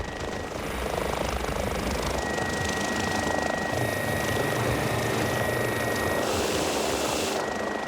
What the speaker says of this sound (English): wires make a street landing unsafe, so Dean opts to touch down in the nearby park.